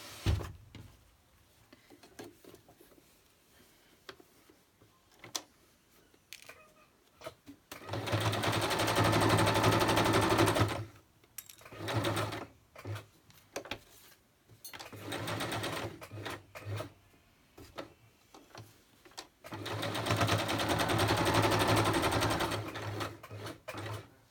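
An electric sewing machine stitches through paper for a junk journal in two long, steady runs of rapid whirring, separated by quieter handling clicks and brief pauses.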